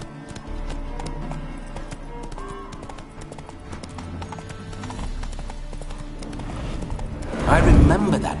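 Horse hooves clip-clop steadily in The Witcher 3 video game as the horse is spooked, a short whinny and louder burst near the end, with talk from game characters over the hoofbeats.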